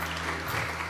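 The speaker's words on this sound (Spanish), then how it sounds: "esa respuesta se merece un aplauso a ese grupo." An audience at a school family dialogue event claps for a group's answer, a brief dense burst of steady applause heard from within the room at moderate level.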